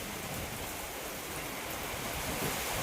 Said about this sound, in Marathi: दिवाळी आली आणि दिवाळीत पाऊस आलाय आता